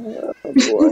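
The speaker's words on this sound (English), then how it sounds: "that's my cat Tippy saying, "No," A pet cat named Tippy gives a couple of short, close meows as a person speaks at the same time.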